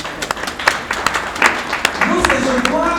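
Audience applause in bursts of clapping under a speaking voice, short and fairly close, with some crowd noise.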